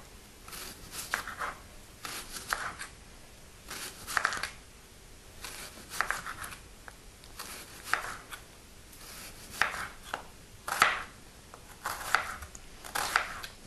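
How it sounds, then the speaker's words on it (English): A good kitchen knife thinly slicing yellow onions, making repeated soft crisp cuts in quick clusters with brief pauses, close and fairly quiet, without speech. "So we're going to cut them very thinly, probably using a really good knife."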